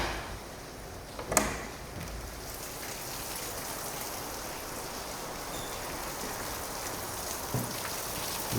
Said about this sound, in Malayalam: മഴ മാറിയിട്ട് നമുക്ക് വരാം.